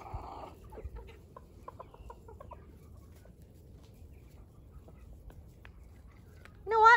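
Chickens cluck in short, scattered calls over a quiet farmyard background while eating carrot pulp, ending with a louder squawk.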